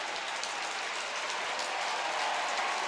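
Dense, steady roar of applause and cheering from a large baseball crowd at Citi Field for David Wright, a continuous wash of clapping heard from within the stands.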